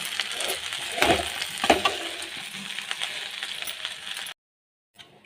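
Spatula scraping and stirring fried rice in a hot pan: a busy, sizzling rasp with a few sharper clinks, fairly close, stopping abruptly near the end into silence and then a brief faint sound.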